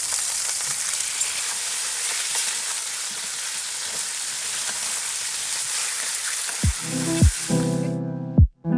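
Salmon fillets sizzling loudly in a frying pan, a dense steady hiss that cuts off near the end, followed by a few knocks and clatters as the fillets are flipped.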